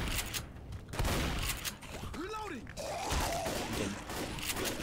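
Rapid gunfire from an auto shotgun in the Left 4 Dead video game, a dense clatter of blasts mixed with zombie groans and game noise, loud and close throughout.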